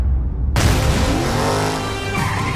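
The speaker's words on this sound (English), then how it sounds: "From its nose, a Dodge Charger bursts out of the fire. Letty beams radiantly. The car loses control and flips into a roll." A Dodge Charger in a film action scene bursts out of fire, loses control and rolls, with a loud sudden onset of engine roar and skidding tire squeal after a brief quiet start.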